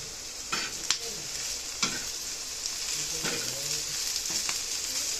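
Okra in a black iron pan sizzles with a steady, close frying hiss, broken by a few scraping stirs of a spatula; no one speaks.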